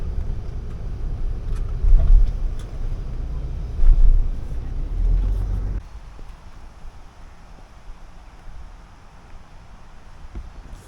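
Wind buffets a microphone outdoors in Edinburgh, Scotland, a loud low rumbling roar that swells in gusts for the first six seconds and then drops to a softer, steadier rush, with no voices.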